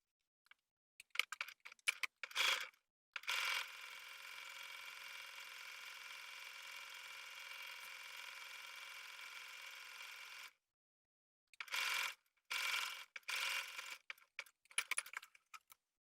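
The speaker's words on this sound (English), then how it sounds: "And now I'm going to edge stitch that down to finish off the sleeve hem." A home sewing machine edge stitches a pressed sleeve hem down, starting with short stuttering bursts, then running in one steady close whir for about seven seconds before pausing and resuming in quick stop-start spurts.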